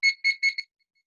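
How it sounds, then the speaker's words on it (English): Electronic kitchen-style timer beeps as it is switched on and set, four short high-pitched tones in quick succession followed by silence. "I'm going to turn this timer on. And I'm going to add 15 seconds."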